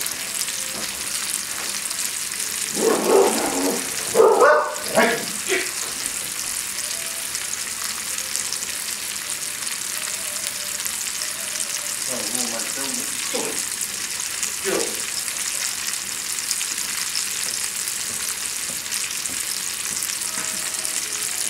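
Thick Cajun-seasoned chicken tenders fry gently in a pan with a soft, even sizzle throughout, broken by a few louder scrapes and stirring clatters early on; no talking.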